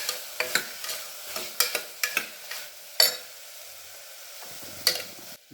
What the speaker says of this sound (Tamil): அது நல்லா வதங்கிட்டு இருக்கட்டும்